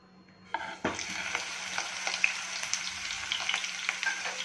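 Two hundred grams of khoya drops into a spoonful of ghee in a hot pan and starts sizzling, a steady close frying hiss with small crackles and spoon stirs that runs on unbroken after a sudden onset.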